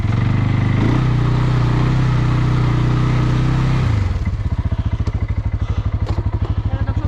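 A quad bike engine roars at high revs while being pulled out after sinking in water, then drops to a rough, pulsing chug as the throttle eases off, loud and close.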